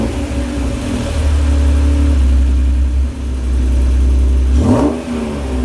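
An Acura NSX fitted with Manzo test pipes runs loud and close, its engine droning steadily at high revs with a brief dip, then a sharp rev blip near the end.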